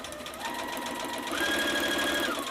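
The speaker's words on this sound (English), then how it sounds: "we're going to bring this over to the sewing machine, and I'm using a 1/4 inch foot, and I'm just going to sew" An electric sewing machine with a 1/4 inch foot stitches a quarter-inch seam on a mini quilt piece, a steady close whir that rises in pitch as the motor speeds up midway and holds, with no talking.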